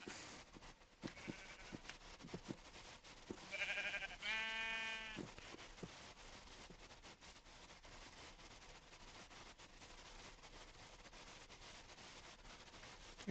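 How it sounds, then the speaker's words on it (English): Sheep in a Minecraft game give a couple of nasal, wavering bleats in the middle, fairly close and clear, between soft footsteps and quiet game ambience. "Oh, look, sheep."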